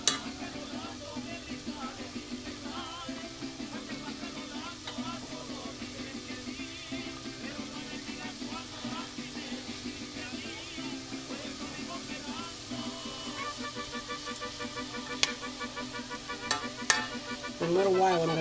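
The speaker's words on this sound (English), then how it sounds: "I'm going to add the other pepper to the mix and start sauteing that as well." Peppers sauté in a hot pan with a quiet, continuous sizzle and occasional stirring clicks, with no voices over them.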